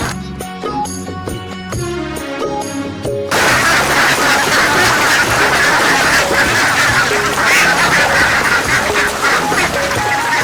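Many ducks on a fish pond farm quack in a dense, continuous chorus with loud clustered calls throughout, joined by a sharp musical-sounding burst at the start.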